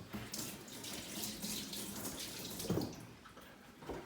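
Tap water runs steadily into a sink as an item is rinsed, a close, even gush with a brief splashier surge near the end and no talking.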